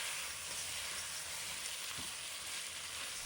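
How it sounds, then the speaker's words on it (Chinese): Duck sizzles and fries in a wok while being stirred, a steady close hiss with a faint scrape of the spatula, no voices. "继续翻炒均匀"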